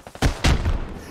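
Gunfire in the military shooter game Squad, two heavy close bursts in quick succession with a rumbling tail, preceded by a couple of fainter shots.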